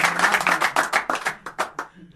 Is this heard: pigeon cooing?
no